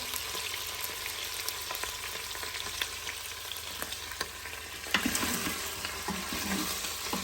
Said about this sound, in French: je vais faire revenir la viande